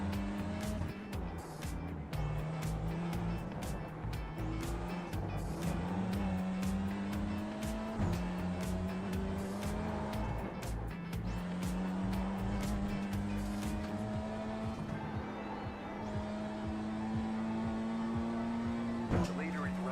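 Race car engine in the iRacing sim game, a steady loud drone rising and falling with gear shifts throughout, with tire squeal touches and other cars passing, while a voice talks over it.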